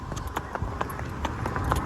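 A horse walks with a rhythmic clip-clop of hooves, close and fairly loud, the steps coming evenly over a low background rumble.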